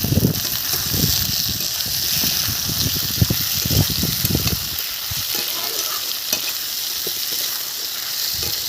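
Thin-cut potato strips sizzle in a pan with half-fried onions, with repeated scraping stirs of a spatula over a steady, close frying hiss.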